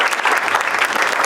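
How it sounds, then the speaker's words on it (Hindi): Loud, continuous audience applause fills a short stretch at a live Hindi-Urdu poetry gathering, a dense crowd clapping with no voices on top. "दोस्तों जोरदार तालियां बजाना शुरू करें।"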